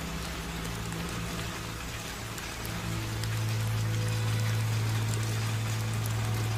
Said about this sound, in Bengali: এখন মনে হচ্ছে এই বৃষ্টি এত তাড়াতাড়ি ছাড়বার নয়।